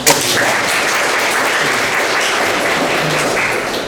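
A hall audience at a national high school debate contest claps for the competing student teams, a loud, dense burst of applause that runs continuously for a few seconds without speech.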